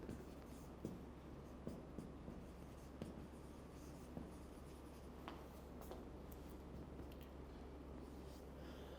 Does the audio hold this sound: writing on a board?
yes